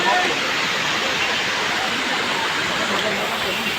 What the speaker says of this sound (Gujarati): અત્યારે હમણાં જાય પાણી એક નંબર છે